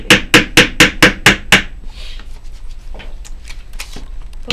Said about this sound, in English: while I'm just hammering this stuff in